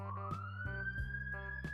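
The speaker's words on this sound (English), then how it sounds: "ambulance, city life." An emergency siren wails through city streets, one steady rising tone sounding clearly alongside low traffic rumble.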